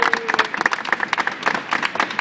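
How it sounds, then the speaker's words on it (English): Brief burst of scattered hand clapping from a small crowd at a gathering, uneven and moderately close, fading in and out over a couple of seconds. "please give a round of applause to people who are joining us in constituency groups today"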